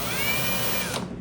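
A power drill whirs steadily while driving a screw during furniture assembly at an IKEA store, one continuous close burst that stops abruptly near the end.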